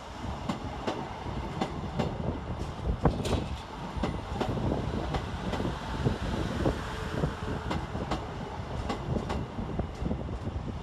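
A Northern class 150 diesel unit in from Knottingley terminates at Leeds railway station with a steady low rumble and rhythmic clicks of wheels over rail joints, heard at a distance amid station ambience and wind noise.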